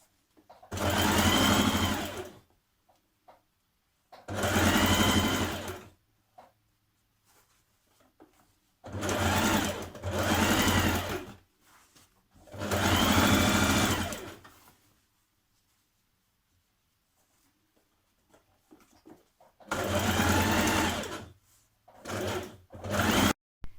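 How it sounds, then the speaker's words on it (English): A sewing machine stitches lining to the main fabric of an evening garment along the lower edge, running in several loud, rapid bursts of a few seconds each, separated by silent pauses. "Now you're going to stitch the lining to the main fabric at the lower edge."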